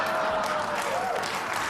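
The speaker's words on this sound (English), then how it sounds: "It's just clapping. It's just clapping and wooing." A comedy audience claps and whoops after a joke, a short burst of dense applause with a few cheers over it and no laughter.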